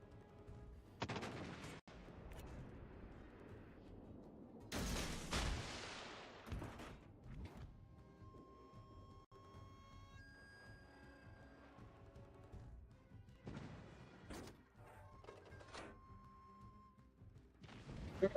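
Torpedo hits on ships in a naval battle game come as a series of deep booming blasts and sharp crackling bursts spread irregularly across the stretch, several loud impacts separated by quieter gaps, with no talking.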